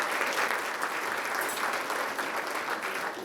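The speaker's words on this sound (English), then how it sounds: "could we please have a round of applause for the people who make everything work here?" Dense, sustained applause from a large audience at a chamber of commerce annual meeting, an even wash of many hands clapping at once without pause.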